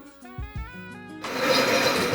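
A Robot Coupe CL50 food processor processing tomatoes starts with a few plucked, clattering sounds, then its motor kicks in with a dense, loud whirring roar that carries to the end.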